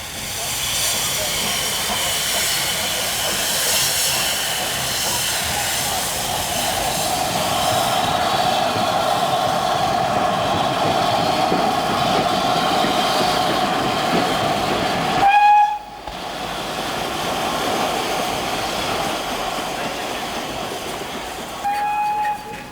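LMS Princess Elizabeth steam locomotive at a Didcot railway celebration, hissing and rumbling continuously at close range, with a brief sharp whistle cutting in near the end and a short second blast just after.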